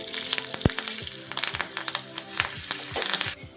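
Garam masala and curry leaves frying in hot oil, a steady close sizzle broken by sharp crackling pops and spatters throughout.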